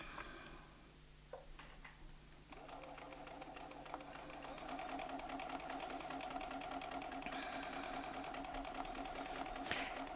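A Bernina sewing machine stitches around a ruler template on a quilt, its needle running in a steady, rapid ticking rhythm. The pace quickens and grows louder partway through, close and alone with no talk.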